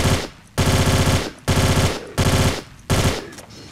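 Lara fires a gun in the video game Tomb Raider: The Angel of Darkness, four loud bursts of rapid automatic gunfire separated by short pauses.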